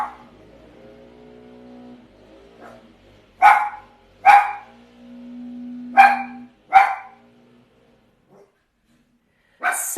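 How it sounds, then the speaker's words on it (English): A dog barks indoors in short sharp bursts, four close together in the middle and one more at the end, with faint low hum between the barks. "The dog Peso agrees."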